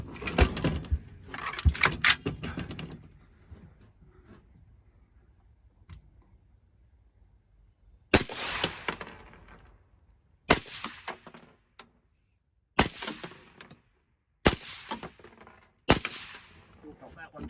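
Mark 12 rifle shots fired at 25 yards ring out as sharp, loud single reports, a cluster early then four more spaced a couple of seconds apart, each with a short echoing tail and brief voices between.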